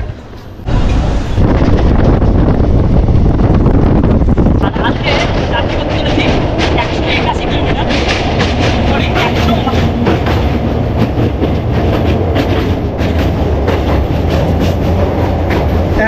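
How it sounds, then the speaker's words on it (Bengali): A passenger train bound for Tarapith pulls out and runs on the rails with a loud, continuous rumble, rhythmic wheel clatter and rushing wind heard from inside a carriage. "ট্রেন কিন্তু ছেড়ে দিল"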